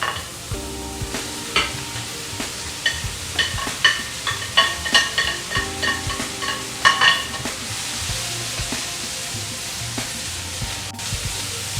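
Onions and other vegetables sizzle steadily in a hot pan while being stirred, with a rhythmic run of scraping strokes in the middle, close and fairly loud, no talking.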